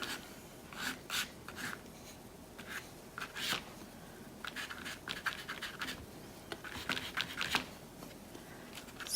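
A tool scraping paint across a mixed-media collage painting, soft repeated rasping strokes of varying length, close and quiet, with no talk.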